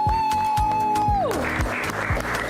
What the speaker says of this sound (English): we have people behind camera cheering for you right now